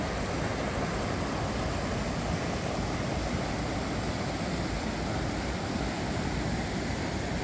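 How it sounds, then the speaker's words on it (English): Tall waterfall flowing through a canyon in Zion National Park, a steady, broad, continuous roar of rushing water, close and unbroken. "It's a nice little waterfall here."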